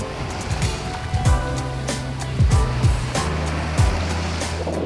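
Ocean waves roll and wash onto a quiet beach in Tulum, Mexico, a steady surf hiss with gentle swells, alongside wind and a faint low mechanical hum.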